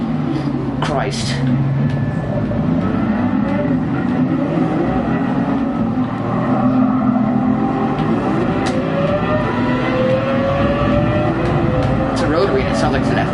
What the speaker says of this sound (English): Sounds like it's an F1 car. Rotary F1.